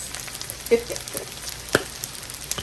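Beef fried rice seasoned with sazón fries and sizzles in a pan, with a few sharp clanks and scrapes as it is tossed, close and fairly loud, without talk.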